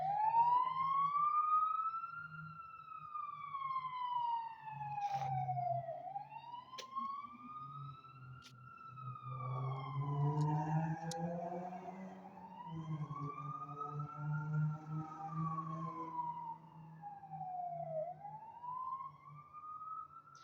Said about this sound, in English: I can't focus when when the ambulance bells are ringing